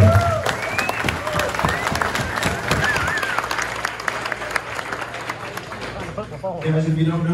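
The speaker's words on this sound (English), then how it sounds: "But give yourselves a round of applause." Banquet audience at a rimfire rifle nationals event applauding, steady clapping with scattered voices and cheers throughout, a voice briefly rising near the end.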